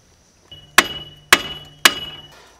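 Three sharp, evenly spaced hammer blows ring out on the axle nut of a 2008 Chevy Impala during a front wheel bearing teardown, each metallic strike loud and close with a short ringing decay.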